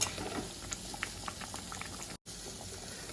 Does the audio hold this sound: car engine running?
no